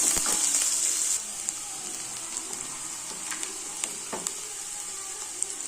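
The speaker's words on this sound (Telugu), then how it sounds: "ఉల్లిగడ్డ అనేది బాగా ఎర్రగా వేసుకోవాలండి కొద్దిగా మరీ ఎర్రగా కాదు ట్రాన్స్పరెంట్ కాదు కొంచెము ఎర్రగెర్రగానే వేయించుకోవాలి" Onions fry in a pan until reddish, giving a steady close hiss that is louder in the first second and then settles, with a few faint stirring clicks and no voices.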